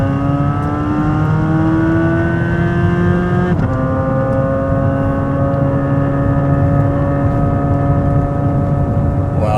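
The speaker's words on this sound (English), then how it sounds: "part throttle acceleration" A Chevrolet Corvette C8 Z06 accelerates at part throttle in second gear, its loud engine note climbing steadily in pitch, briefly dropping at a shift-like break, then rising again continuously.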